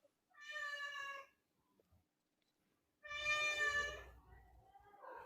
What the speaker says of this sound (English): I think it's a cat.